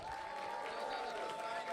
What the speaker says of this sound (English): one more round of applause for Sergio.